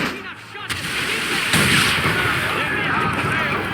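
Cannon fire booms from an enemy sailing ship in the Assassin's Creed 3 video game, heavy artillery blasts and rumbling over game ambience, with voices talking over it.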